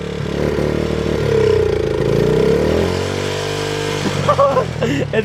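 A Honda CRF50 dirt bike that sat unused for years idles too high with the throttle seemingly stuck open, a close, steady buzzing drone that rises and dips in pitch, with brief voices near the end.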